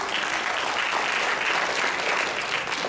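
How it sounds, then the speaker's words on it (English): An audience applauds steadily after a junior girls' dance performance at an academy day event, a dense, even wash of clapping that holds for the whole stretch. "I think we should give them one more round of applause."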